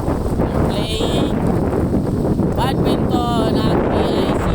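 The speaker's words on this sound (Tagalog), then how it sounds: "ang lakas ng hangin dito" Strong wind buffeting the microphone outdoors at PICC, a constant loud roar with rumbling gusts throughout and a few voices talking faintly underneath.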